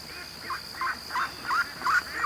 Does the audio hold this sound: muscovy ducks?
yes